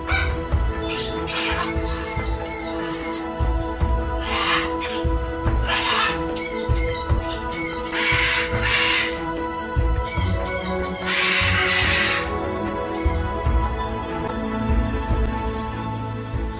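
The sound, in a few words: flock of macaws shrieking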